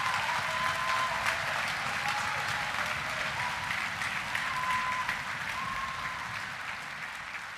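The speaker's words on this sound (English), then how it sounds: "So let's give them a huge round of applause." An audience at a high school honors concert claps in a long, dense, steady ovation that fills the hall and tapers slightly toward the end, with faint voices mixed in.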